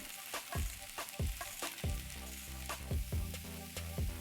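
Vegetables seasoned with salt, pepper and curry frying in a pan, a steady sizzle broken by repeated scraping stirs at a regular pace, close and fairly loud, with no voices.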